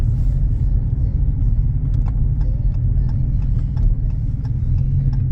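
A 2018 Dodge Challenger cruising over an old, unreplaced stretch of road, with a heavy continuous low rumble of engine and tyres and light rattling taps from the rough surface, loud and steady from inside the car.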